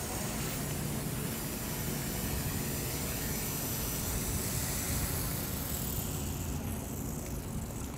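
A Walkera V120D02S flybarless mini 3D RC helicopter holds a steady, loud broadband whir throughout while flying and coming in to land, with no pauses or talk.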